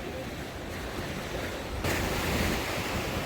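Surf rolling onto the beach at Chaweng on Koh Samui, a steady broadband wash with wind noise on the microphone, swelling noticeably louder partway through as a wave breaks close by.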